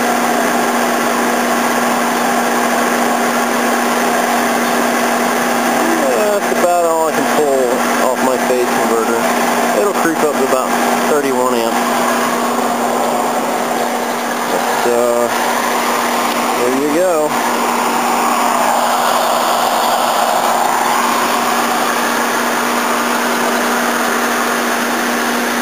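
A Spectra Physics 165 argon krypton laser power supply runs with a loud, steady electrical hum and whine, with faint rattles and shifting tones now and then.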